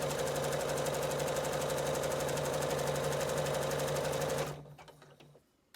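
A sewing machine zigzag stitching to the edge of fabric for a reversible surgical cap: a fast, even mechanical rattle running steadily and close for over four seconds, then stopping abruptly into quiet.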